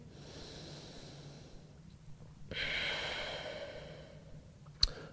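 A deep, slow exhale during a yoga stretch is heard close up: a long breathy sigh building and fading, followed by a short sharp snort-like breath.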